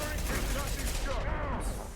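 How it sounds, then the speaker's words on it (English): A concussive shot fired in Mass Effect 2 amid dense, continuous combat noise, with overlapping gunfire bursts and a steady loud battle wash throughout. "Firing concussive shot."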